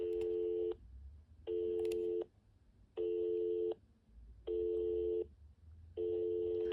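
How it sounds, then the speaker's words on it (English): Repeating telephone dial tone from a BT 6600 handset, a steady tone cut into five even bursts of under a second each with short gaps, loud and close, no talking. "It's literally just dial tone, like 1571 dial tone."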